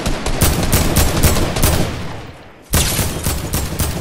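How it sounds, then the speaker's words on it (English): Rapid bursts of gunfire from the video game Fortnite, loud and continuous with dense repeated shots, a brief lull near the middle before firing resumes at full intensity. "Keep shooting."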